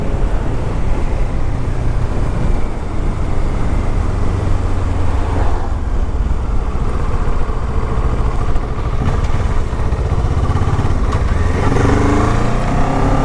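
A 2015 Kawasaki Ninja 650R roars loud and close on a test ride, its parallel-twin engine droning steadily with rising and falling revs under heavy wind rush.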